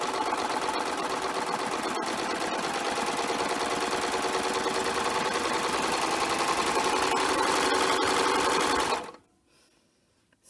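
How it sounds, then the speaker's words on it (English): Serger sewing machine running a flatlock stitch through fabric, a loud, fast, continuous mechanical whir close by for about nine seconds before stopping abruptly, leaving near silence. "So I'm going to go ahead and start to serge."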